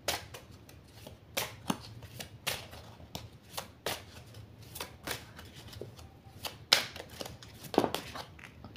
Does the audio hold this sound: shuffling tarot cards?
yes